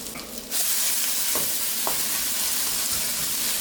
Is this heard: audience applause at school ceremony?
no